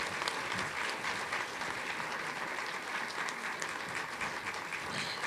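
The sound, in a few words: applause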